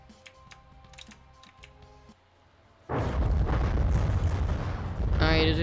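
Crossbones weapon firing at a target in the game From The Depths: after quiet ticking, a sudden loud, sustained roar of gunfire and blasts begins and continues with crackling intensity to the end.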